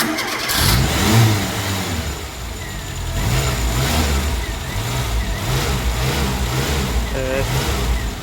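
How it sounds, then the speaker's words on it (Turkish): A Renault R9 Broadway 1.4 engine, with freshly replaced spark plugs and plug wires, cranks and catches, then runs with a steady, throbbing idle and some revving, loud and close throughout. "Bir marş basıp bakacağız ki arabamız nasıl çalışıyor"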